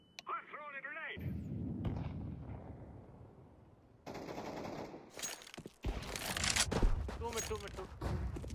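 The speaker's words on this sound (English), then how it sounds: "I'm throwing a grenade." A grenade goes off in a Counter-Strike match: a broadband blast with rumbling tail around four seconds, another burst near six seconds, amid gunfire-like crackle, game sounds and voices talking throughout.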